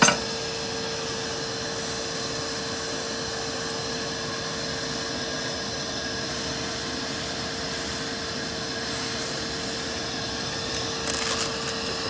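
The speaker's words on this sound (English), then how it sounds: "I'm going to vacuum these grills off of here." A vacuum cleaner drones steadily and continuously at moderate volume while it sucks honeybees off a barbecue grill's cooking grate, with a few faint bumps near the end.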